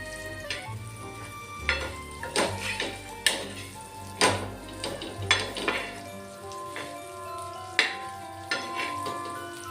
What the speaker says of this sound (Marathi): स्लो गॅसवरच आपण मच्छी तळतोय।